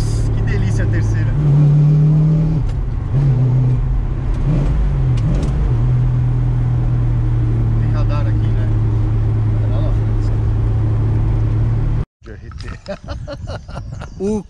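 A Dodge Charger engine revs hard and pulls in third gear, a loud sustained roar with rising and falling pitch, cutting abruptly near the end to road noise and brief speech.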